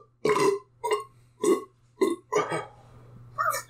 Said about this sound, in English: they just started drinking Coke and burping into the mic